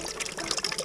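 Water gushes and trickles out of a freshly made hole in a homemade ice lantern, a short close burst of splashing with no voices.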